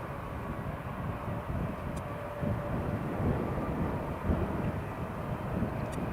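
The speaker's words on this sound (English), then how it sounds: "Eurowings is taxiing." A Eurowings airliner taxis at Newcastle International Airport, its engines giving a steady, fairly loud low roar and rumble that holds constant throughout, heard from a moderate distance.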